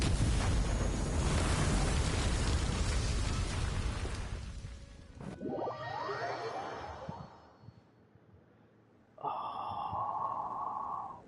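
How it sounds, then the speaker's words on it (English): A loud explosion in the video game Genshin Impact on PS5 erupts as a sustained broadband roar lasting several seconds. It fades into rumbling debris and then a steady tonal hum. "Was that an explosion just now?"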